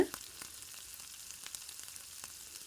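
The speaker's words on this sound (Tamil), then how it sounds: "போட்டுட்டு வதக்கி விட்டுருங்க" Two medium tomatoes sautéing in a pan for traditional Kongu-style rice and lentil dish, a soft steady sizzle with occasional light stirring clicks and scrapes, fairly quiet and close.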